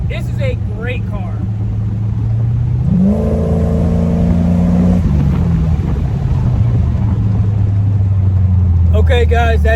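A 1988 Corvette with a 383 V8 revs up, its engine climbing in pitch and holding a steady, loud drone before settling back down, with a voice talking briefly at the start and end.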